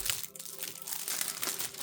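Clear Scotch tape being peeled away from a comic book, a close, continuous crinkling, crackling rip that runs steadily for about two seconds with no talking.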